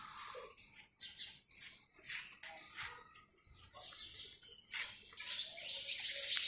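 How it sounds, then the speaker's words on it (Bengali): A crow calls outdoors in the cool morning air. Its short, faint calls repeat irregularly and sound somewhat distant, with no talking. "এটা কি? কাক কাক কাক কাক কাক।"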